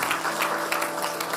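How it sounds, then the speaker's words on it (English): Audience at the inauguration of a dental academy giving a round of applause, a short, dense stretch of many hands clapping in a hall. "Can I give a big round of applause for sir?"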